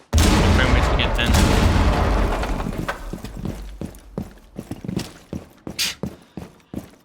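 A grenade explodes in Rainbow Six Siege with a loud, broad boom that rumbles and decays over a few seconds, then gives way to a series of sharp, irregular cracks and thuds like scattered gunfire.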